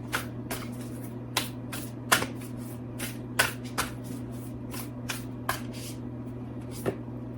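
Oracle cards from the Into the Lonely Woods deck being shuffled by hand, a series of crisp, close riffling snaps at irregular intervals over a steady low hum in a quiet room.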